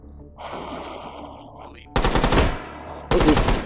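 Bursts of rapid automatic gunfire in the VR shooting game H3VR, two loud dense volleys near the end after a quieter stretch of rustling and clatter.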